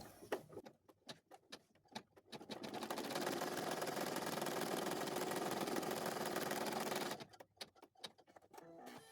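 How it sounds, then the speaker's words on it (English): A sewing machine stitches placement stitches for a cloth doll's hair, a steady rapid mechanical whirr lasting several seconds, bracketed by sharp clicks and taps of handling before and after, close and alone. "Now we're going to stitch out the placement stitches for the hair"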